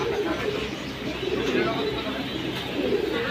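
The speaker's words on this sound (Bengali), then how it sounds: "পাখি জোড়াটা দেখাবো, এই যে ডিম নিয়ে বসে আছে" A pair of pigeons sitting on their eggs coo in low, soft, repeated murmurs. The sound is steady and close, set against a dense background of voices and noise.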